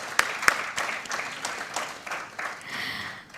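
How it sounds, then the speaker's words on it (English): Audience applause following a film screening at a book launch, a crowd clapping steadily at moderate distance with a few sharper individual claps standing out, fading slightly toward the end. "Let's have another round of applause"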